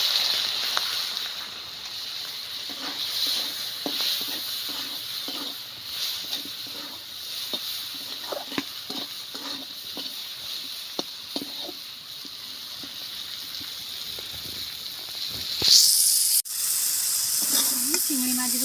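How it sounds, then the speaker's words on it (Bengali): Prawns frying in oil make a soft, steady sizzle under a voice, with scattered taps and clinks of utensils and a brief louder clatter near the end. "চিংড়ি মাছগুলো আমি ভেজে নেব।"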